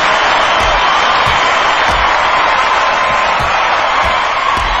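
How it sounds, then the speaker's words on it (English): A dense, loud crowd roar fills a Battlefront wrestling match, sustained cheering with occasional whoops and intermittent impact thuds breaking through the steady noise. "And the crowd's going wild!"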